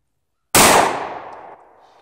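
A single 9mm pistol shot cracks sharply after a moment of silence, very loud and close, its echo decaying over about a second outdoors.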